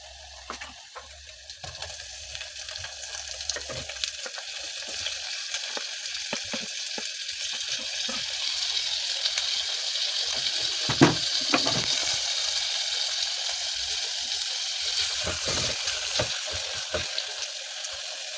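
Onions and tomatoes frying in a pot for pumpkin soup, a steady, even sizzle that continues throughout with occasional clicks of stirring.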